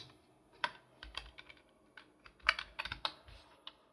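Rapid, irregular keystrokes as Python code is typed on a computer keyboard, with scattered clicks and a few quick bursts of keys, fairly close and quiet, with no talk.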